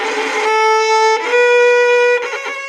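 A harsh, scratchy, badly bowed violin tone with rough, uneven strokes, changing pitch a few times, played alone and fairly loud.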